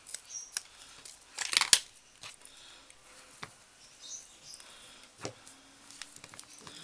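Scissors snipping while making small Christmas lanterns, a few sharp close cuts with one louder burst of crisp snips, scattered between quiet handling sounds and no talk.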